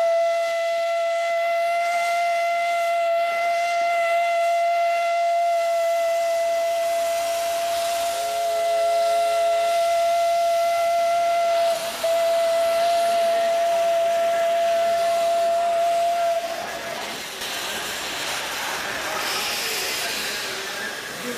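An Indian steam locomotive sounds a long, loud, steady whistle close by, followed by a strong rushing hiss of escaping steam as the whistle cuts off.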